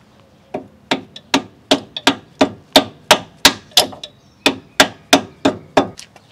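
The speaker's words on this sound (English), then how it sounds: "I'm then going to see if I can break that free with a dead blow hammer." A dead blow hammer strikes the rear strut bolts of a 2003 Toyota Camry during suspension work, about sixteen sharp, close blows in a steady rhythm, each a loud crack with a quick decay.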